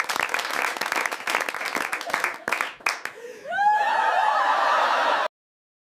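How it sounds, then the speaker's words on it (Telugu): An audience claps at the end of a comedy interview, a burst of applause and some laughter, loud and close, then cut off abruptly. "క్లాప్స్."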